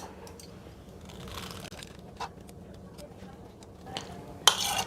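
Boiled potatoes for aloo kabli are stirred with salt and lemon juice, with soft scraping and light clinks of a utensil against a bowl, quiet and close, under occasional faint talk.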